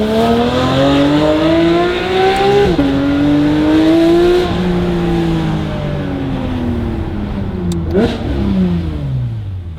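A Porsche 992 GT3 RS with a Valvetronic Designs titanium exhaust, valves open, revs hard among buildings. The loud, close engine note rises in pitch through several gear pulls with brief dips between them, then winds down near the end, and nobody speaks.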